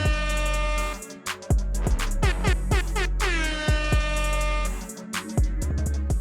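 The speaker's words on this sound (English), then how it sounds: "y'all gotta take this air horn away from me now" Loud air horn blasts repeated in quick bursts, sustained honks broken by short stabs, with a long blare in the middle and more blasts near the end.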